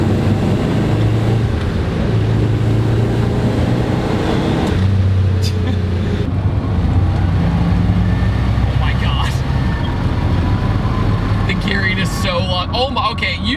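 Turbocharged V6 in a GMC Typhoon pulling hard under throttle, a loud, steady low engine roar with rising tonal whine building continuously from inside the cabin, with someone talking over it.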